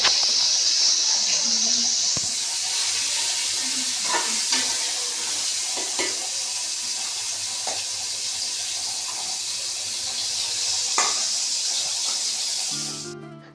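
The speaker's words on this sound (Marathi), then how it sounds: "कुकरमध्ये तेल टाकून पूर्ण चिकन आता ताई टाकत आहे" Loud, steady sizzling of food frying in hot oil, with occasional clinks of stirring, continuing for several seconds before cutting off.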